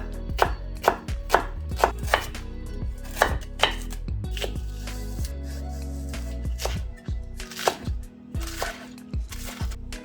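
A knife chops vegetables on a cutting board in quick, irregular runs of sharp close knocks, with brief pauses between bursts.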